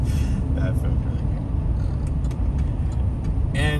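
A GMC Sierra 2500HD V8 pickup accelerating hard on a night drive, with a deep, loud, steady engine roar heard from inside the cab while someone talks over it.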